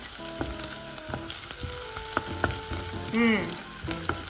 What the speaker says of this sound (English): I saute them in the oil to get the flavor out.